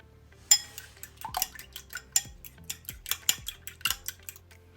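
Spoon clinking and scraping against a mixing bowl while brown sugar is stirred into banana bread batter, a quick run of sharp metallic taps and scrapes, close and fairly loud, with no voice.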